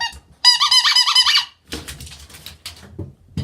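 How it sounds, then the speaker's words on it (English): A PupBox squeaky dog toy gives a loud burst of rapid, wavering squeaks lasting about a second. Afterward come shuffling handling noises and a few faint thumps. "It squeaks."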